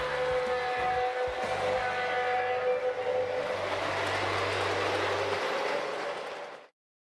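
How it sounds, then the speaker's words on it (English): A Lionel model toy train runs along its track, with steady rumbling and rhythmic clicking plus some tonal whine, fairly quiet, ending abruptly in silence. "Everyone loves that clickety-clack of coming down the track."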